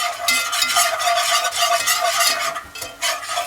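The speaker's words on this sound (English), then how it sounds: "And we're going to whisk that together." A whisk scrapes and stirs melted butter and flour together in a pan, with a quick rhythmic swishing and a soft sizzle, close up and continuous with no talking.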